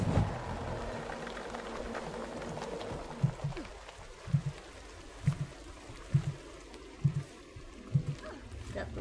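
A waterfall in the video game Guild Wars 2, at the Dragon's Teeth hot springs, gives a faint, steady rushing of water, with soft, evenly spaced thumps repeating beneath it.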